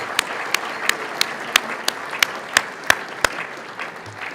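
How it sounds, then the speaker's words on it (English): A sold-out dinner crowd of about 900 applauds steadily in a large banquet room, the dense clapping punctuated by a run of sharp, evenly spaced loud claps close by before it begins to thin out. "let's give another round of applause for Dan Proft and the entire Lincoln Day Dinner Committee"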